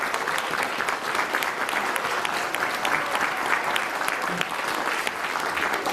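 Steady audience applause for students at a school story-hour event, dense continuous clapping from a room of people, moderately loud and sustained throughout without a break.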